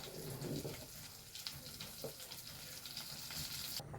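A pot of jackfruit seed and drumstick leaf curry bubbling and sizzling steadily close by, a soft continuous crackle with occasional louder pops, no voices.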